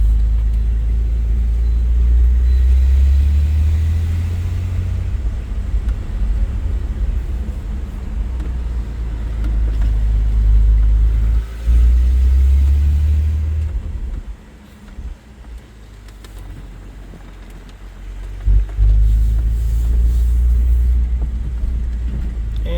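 A 1993 GMC Sonoma pickup truck on the road, heard from inside the cab as a steady low engine and road rumble that swells and eases with speed, briefly quieting midway before picking back up.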